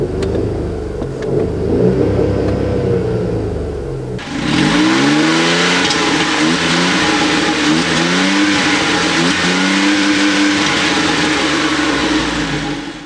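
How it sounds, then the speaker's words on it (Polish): A 2015 Skoda Fabia Kombi with a 1.0 MPI 75 hp three-cylinder petrol engine revs while driving: a steady drone, then a sudden louder stretch with rising and falling engine pitch as it accelerates through the gears, heard close with no talk. "Najsłabsza jednostka to jest 75 koni i to jest dokładnie silnik testowany przez nas."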